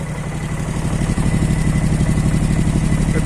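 MTZ-132 walk-behind tractor fitted with a 13-horsepower Honda engine running close by, a loud, steady rapid chugging idle with a single brief dip before settling into an even, throaty rhythm.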